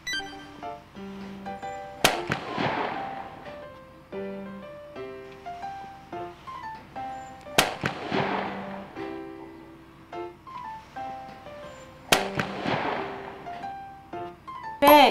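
Gunshots at an outdoor shooting range heard through earmuffs, three sharp muffled reports spaced several seconds apart over quiet background with faint chirping tones.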